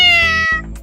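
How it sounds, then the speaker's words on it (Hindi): A cartoon cat meows loudly and close in a single drawn-out cry, set against a background cartoon music bed. "अरे ये भिखमंगी बिल्ली कहाँ से आ गई?"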